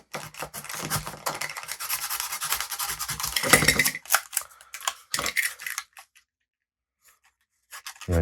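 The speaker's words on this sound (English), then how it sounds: "I'm going to run the Stanley knife down that wall I did not cut," A Stanley knife is drawn down through a corrugated card wall, rasping and scratching in a steady, close run for about four seconds. A few shorter scrapes follow, then near silence.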